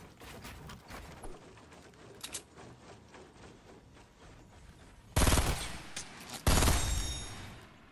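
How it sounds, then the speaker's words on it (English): Gunfire in the video game Fortnite: quiet clicks and scattered shots over soft background ambience, then two loud, sharp bursts of shots close by near the end, with no talk. "people love shooting me from the back"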